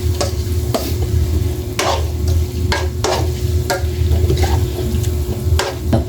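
A spoon stirs eel adobo in coconut milk with soy sauce in a pot, making repeated close scraping strokes in an uneven rhythm over a steady simmering sizzle.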